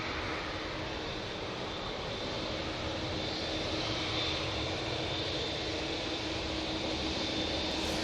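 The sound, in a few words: Boeing 787 Dreamliner jet aircraft at Manchester Airport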